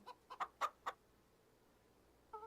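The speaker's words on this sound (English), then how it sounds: "Man, we got a lot of chickens." Chickens on a farm cluck softly in a quick series of four or five short calls, then fall quiet before one more cluck at the end.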